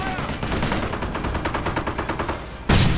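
Continuous rattling machine gun bursts in a World War II strategy video game battle, dense and loud, ending in a heavier blast, with faint voices underneath.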